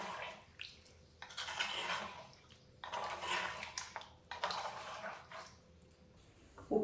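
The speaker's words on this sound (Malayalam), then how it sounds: "ഇനി ആവശ്യാനുസരണം വെള്ളം ഒഴിച്ചു കൊടുക്കാം" Water poured into a Kerala-style varutharacha chicken curry with roasted ground coconut sounds in three separate splashing, gushing bursts with quiet pauses between them, near and fairly soft, with no talking.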